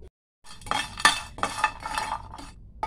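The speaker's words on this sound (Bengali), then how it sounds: "একটু নেড়ে নিয়েছি কড়া প্যানের মধ্যে" A spoon scrapes and clinks against a pan while garam masala spices are dry-stirred, several close bursts of metallic scraping in quick succession, with no voices.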